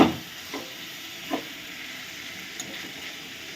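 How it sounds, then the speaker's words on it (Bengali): Chicken meat sautéing slowly in a pan over a low flame for chicken kosha, a soft continuous sizzle with a few faint stirring knocks, no speech. "এবারে আমি গ্যাসটা লো ফ্লেমে দিয়ে মাংসটাকে ভালো করে কষিয়ে নেব আস্তে আস্তে।"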